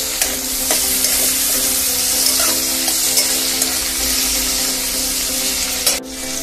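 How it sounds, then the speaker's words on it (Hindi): Onions and tomatoes frying in hot oil for a Maharashtrian village-style kala chicken, a loud steady hiss and sizzle with faint scraping of stirring, ending with a short clunk. "गरम तेल में प्याज डाल देंगे।"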